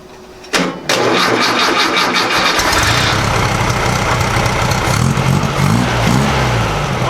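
A 1956 VW Beetle engine cranks briefly, catches with a loud burst, then settles into a steady, rough, close idle with an uneven beat, with no voices over it.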